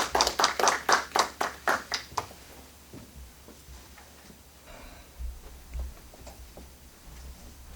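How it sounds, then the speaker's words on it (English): Clapping from an audience for Reverend Richard sounds for about two seconds as a run of sharp, evenly spaced claps, then quickly thins to a few scattered taps and near silence. "let's give him a round of applause now"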